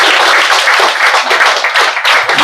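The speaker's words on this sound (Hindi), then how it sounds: "एक बार दीदी के लिए जोरदार तालियां बजा दीजिए।" An audience claps loudly and steadily at a live comedy show, a dense burst of applause close and alone with no talk.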